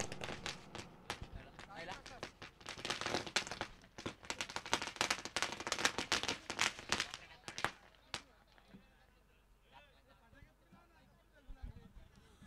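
Firecrackers burst at a welcome ceremony for arriving guests at a village tournament match, sending a dense, rapid string of sharp cracks for about eight seconds before thinning out into scattered pops beneath a background of voices.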